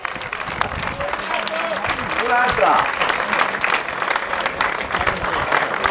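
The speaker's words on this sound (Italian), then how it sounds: "Fare un grande applauso all'ultimo classificato" Diners at the Antica Trattoria Ballotta in Torreglia give a sustained round of applause for the last-placed contestant, with many hands clapping steadily and voices talking over the clapping.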